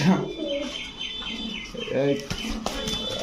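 A Red Check pigeon struggling in a hand gives brief wing flaps and rustles at close range, with soft bird calls, under someone talking.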